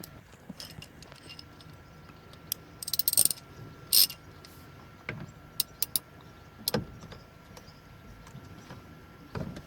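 Steering wheel lock on a VAG car being released, heard as a series of quiet mechanical clicks and ratcheting snaps, with a couple of brief sharper metallic bursts standing out from a low background.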